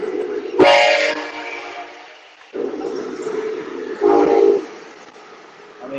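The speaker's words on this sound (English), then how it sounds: "the train rolls by" A train rolls by outside, a steady rumbling clatter with two brief blaring horn blasts cutting through, moderately distant and continuous throughout.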